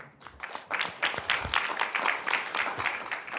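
Audience at a city council meeting applauds as two visiting high school pages are introduced, a brief scatter of moderate clapping that starts quickly and continues steadily without talk.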